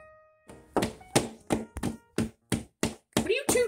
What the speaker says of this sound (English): Why are you banging your heads against the wall?